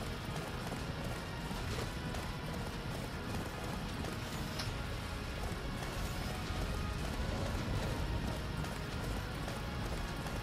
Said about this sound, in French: Parce qu'il va falloir genre courir avec le cheval comme ça.